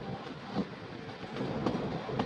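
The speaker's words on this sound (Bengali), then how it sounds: "এর জন্য দেখো ট্রেন কিন্তু দাঁড়াবে" Kalka–Shimla toy train rolling along the track as it slows to a stop, a steady rumble with soft rhythmic clatter of wagon wheels, fairly close and continuous without talk.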